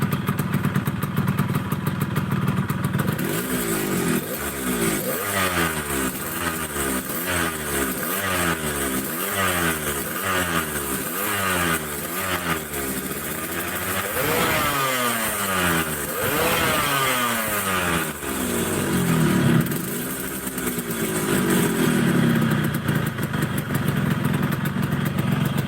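Yamaha RX King two-stroke motorcycle with a running-condition problem starts up and runs nearby, a loud, raspy, popping exhaust note with repeated throttle blips and revs rising and falling, then settling back to idle.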